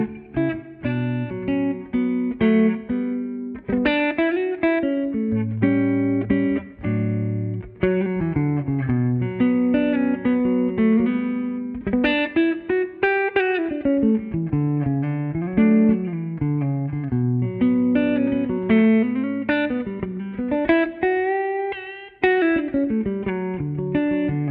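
Electric guitar played through an amp modeler, a long melodic passage with sustained and bending notes, a clean to lightly driven amplified tone, loud and continuous without voices.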